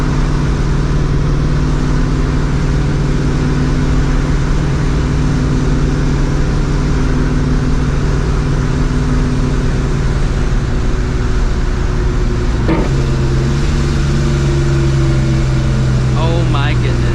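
Supercharged New Edge Ford Mustang GT with a Vortech V1 Ti-Trim blower, heard from inside the car as a loud, continuous engine drone with rising and falling whine, and brief voices near the end.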